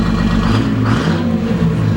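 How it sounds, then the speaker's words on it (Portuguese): An old collectible truck's engine revs steadily while the small rain cap on its exhaust stack flaps against the pipe, a continuous loud, close, rumbling drone. "essa tampinha que está batendo na descarga agora faz com que a água da chuva não entre dentro da descarga"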